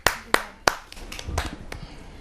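A few loud, separate claps ring out up close at a Hindi kavi sammelan as poet Swati of Noida is welcomed, then give way to softer, scattered clapping and faint murmurs.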